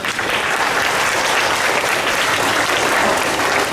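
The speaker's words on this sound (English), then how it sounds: "A big round of applause to them." Loud, dense applause from a school assembly crowd rewarding the class that ran the event, a continuous close wash of many hands clapping at even strength throughout.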